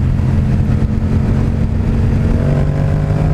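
A 2016 Yamaha FZ-07 fitted with a Two Brothers full exhaust system rumbles loudly and steadily while being ridden, with a deep, continuous engine drone and wind rush close up.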